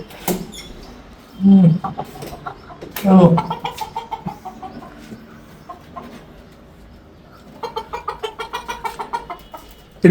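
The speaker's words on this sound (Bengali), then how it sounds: "এটা কি যেন বলে ফাউমি নাকি ফাউমি হ্যাঁ" Fayoumi chickens on a rooftop garden cluck in close, rhythmic bursts, with a couple of louder squawks early on and a run of quick clucks near the end, while people talk nearby.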